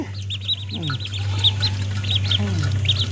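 Newly hatched ducklings peep in rapid high chirps while being fed, a steady run of calls close by over a constant low hum.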